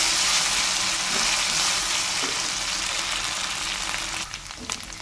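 Onions frying with ginger garlic paste in a pan give a steady, close sizzle that holds evenly throughout, then turns slightly more broken with a few clicks and stirring sounds near the end.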